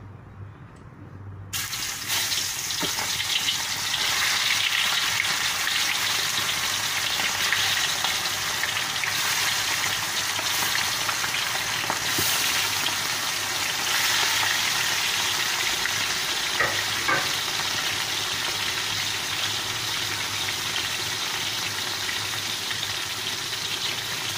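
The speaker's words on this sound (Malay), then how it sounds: "saya goreng ikan dulu" Steady, loud sizzling and crackling of fish frying in hot oil, a continuous hiss close by with no voices.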